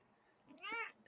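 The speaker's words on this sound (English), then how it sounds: "No, it's a cat." A cat meows once indoors in a quiet room, a single clear drawn-out call rising and falling near the end, with faint room noise before it.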